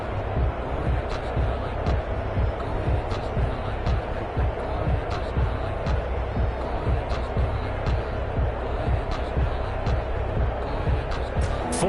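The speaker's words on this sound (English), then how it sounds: "That just means this crowd's going to get even louder." In a Madden 21 football video game, a stadium crowd roars continuously as a loud, dense wash of noise, with rhythmic thumps and short sharp hits running through it.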